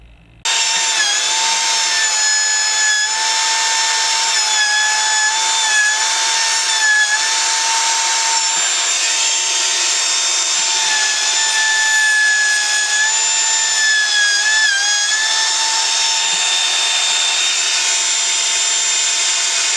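A Makita plunge router cuts letters into wood, and its loud high-pitched whine runs steadily and close for the whole stretch after a brief quiet start, dipping slightly now and then under load.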